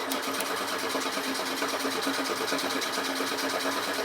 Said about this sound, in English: The fuel pump, the original fuel pump, it was throwing fuel out into a bottle.